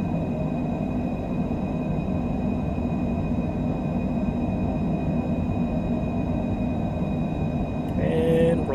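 Twin jet engines of a Citation Longitude business jet roar steadily at takeoff power in Microsoft Flight Simulator 2020, a dense continuous rumble with a high whine holding throughout.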